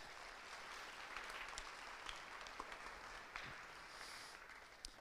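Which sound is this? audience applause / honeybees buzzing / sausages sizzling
audience applause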